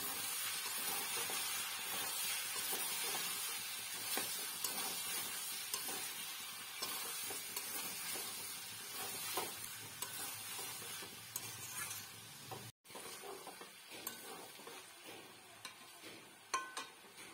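A prawn masala for Bengali echor chingri with green jackfruit is stirred and sautéed in a pan, making a faint, steady sizzle with scattered soft scrapes and taps, with no talking.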